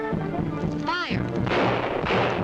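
A gunfire volley in a jungle adventure serial: sharp bursts of rifle shots and booms crackle over a steady background, with a sweeping whistle-like tone midway, fairly loud and close.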